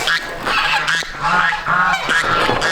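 Geese honk repeatedly and loudly up close, several overlapping calls in quick, irregular bursts.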